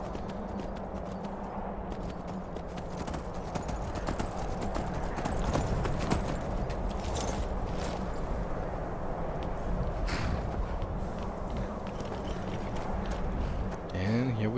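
Steady horse hooves clip-clop throughout in Skyrim, with a brief whinny near the end and a faint game-like ambience underneath.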